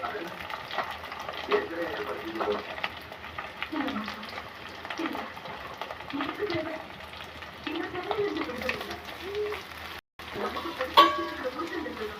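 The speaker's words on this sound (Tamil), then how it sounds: "வெங்காயம் வதங்கியாச்சு ஃப்ரெண்ட்ஸ்" Onions sauté in a pan for fish curry, a soft continuous sizzle with occasional stirring scrapes, running beneath a person talking for much of the time.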